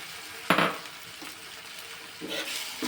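Soaked moong dal drops into a hot pan with a sudden loud sizzle and clatter, then frying crackles softly on, with fainter stirring scrapes near the end while cooking bottle gourd curry.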